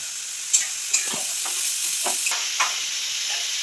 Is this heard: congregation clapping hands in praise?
no